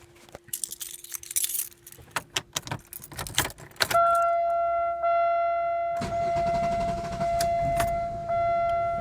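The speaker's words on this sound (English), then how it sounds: "it's always wanted to kind of start like that, where it kind of goes and quits for a split second and then starts up" A Chevrolet Malibu with a replaced fuel pressure regulator cranks and stumbles briefly, then catches and starts, settling into a steady idle with a whining hum after clicks and jangling keys.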